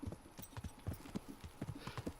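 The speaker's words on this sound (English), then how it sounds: "Gotta get my horsey horse." Horse hooves clip-clop in the Kingdom Come: Deliverance video game, a steady run of near, distinct hoof strikes on hard ground with an even trotting rhythm, and no other sound competing.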